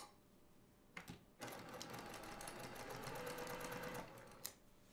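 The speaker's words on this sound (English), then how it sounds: "you can sew out to the seam line" Sewing machine stitching quilted table runner pieces, a steady fast whirring run of about three seconds, framed by a couple of short clicks before and after.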